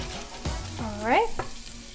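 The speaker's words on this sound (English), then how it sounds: "going to add some fresh minced ginger, some fresh minced garlic, going to saute that a little bit." Fresh minced ginger and garlic sautéing in a pan, a soft continuous sizzle under stirring, with a few squeaky, sweeping scrapes of a utensil against the pan in the middle.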